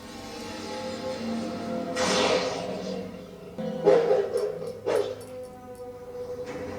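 Dogs barking in a scene from the TV series Supernatural: several mid-distance barks and yips over a low ambient bed, with a louder burst of barking near the middle and no speech.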